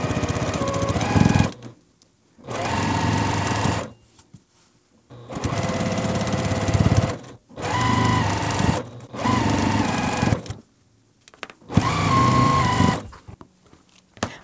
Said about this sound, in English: we can take these to our machine and just sew right down this edge using a one quarter inch seam